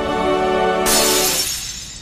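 A magical stone shatters with a sudden loud crack and bright spray of fragments in a comedy fantasy drama scene, ringing out over a sustained musical tone before decaying over about a second.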